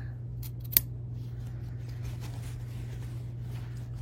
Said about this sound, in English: I can come through and snip right up to the tip of the triangle